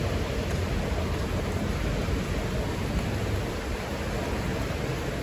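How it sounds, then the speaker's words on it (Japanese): Steady, dense rain pours onto a street in the town of Miyakonojo, Miyazaki, a constant hiss with no breaks that stays loud and even for the whole stretch, with no voices over it. "もうずっと雨、今日は。"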